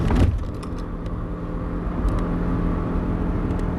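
Reasonably Priced Car on a race track at full throttle through a left-hander, heard from inside as a loud, steady engine drone with rumbling road noise and no let-up.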